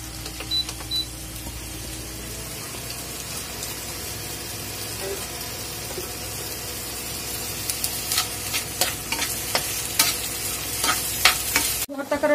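Boiled figs frying in oil in a frying pan give a steady sizzle, with stirring scrapes and clinks that grow busier toward the end.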